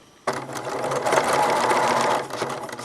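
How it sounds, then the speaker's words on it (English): A sewing machine back stitches along a quilt binding toward the back edge, a steady close motor hum and rapid needle rattle starting abruptly and running continuously before easing slightly near the end. "we're going to back stitch all the way to the back edge of the quilt now"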